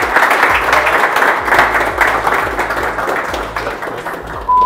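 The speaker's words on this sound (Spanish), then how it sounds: "Un fuerte aplauso también para él." Strong applause from a live audience at the Mister Chile 2023 pageant show sounds as a dense, steady wash of clapping that lasts nearly five seconds before cutting off.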